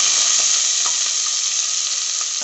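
Vegetables for dal khichdi go into a hot pan, producing a loud, continuous close-up sizzle with a dense hiss and faint crackles throughout, with no speech.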